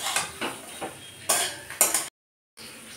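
A metal spatula scrapes and clinks against a cooking pan as prawns and potatoes are stirred, several short distinct strokes in a quiet kitchen, then a brief silence before a soft scrape resumes.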